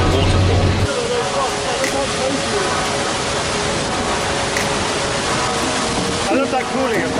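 A waterfall near Batu roars as a constant, broadband rush of falling water, loud and close, with faint voices and a brief low hum at the start.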